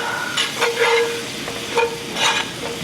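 A spoon stirs a butter and flour roux in a cast iron skillet, giving soft sizzling with repeated scraping strokes against the pan in an uneven rhythm, close and clear, with no voices.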